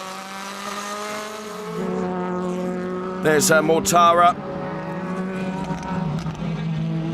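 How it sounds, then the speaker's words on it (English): Onboard a DTM race car lapping the Nürburgring in 2012: a steady, loud engine drone fills the whole stretch, briefly swelling midway, with a commentator speaking over it. "Again, the sound of these cars absolutely phenomenal around the Nürburgring."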